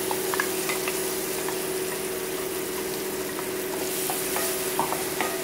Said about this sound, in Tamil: இப்போ இந்த பேஸ்ட்டை போட்டுக்கலாம்.